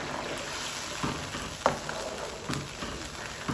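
Chicken in yogurt cooks on high flame with a soft, steady sizzle and bubbling, broken by a few light stirring knocks.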